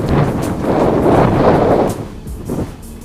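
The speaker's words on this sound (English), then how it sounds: "Pardon the wind." Outdoor wind buffets the microphone in loud, broadband gusts that swell and drop, easing slightly toward the end, with no talking.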